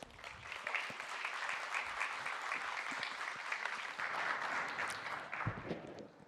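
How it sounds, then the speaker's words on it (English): Conference audience applauds as a speaker is called to the stage, a steady, even spread of many hands clapping, moderately distant and fairly quiet, running throughout. "I need you to applause and get Babette up on stage."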